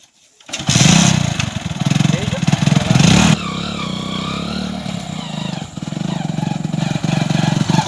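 A motorcycle engine starts and runs close by, with a loud rough rev for a few seconds, then settles into a steady idle and more throttle pulses, and no talking.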